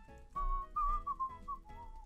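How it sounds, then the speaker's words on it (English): A person whistles a short melodic tune of sustained and gliding notes, several phrases in a row, close and clear with no talking. "Sorry for whistling."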